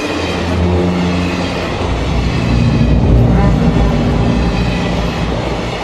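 A passenger train running along the tracks, a loud steady rumble with rattling wagon noise throughout, close and continuous.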